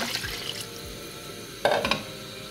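Water is poured into a cooking pot holding a yellow bean and potato stew, heard as a near splash and trickle building to a brief louder gush, with faint drips and no talking.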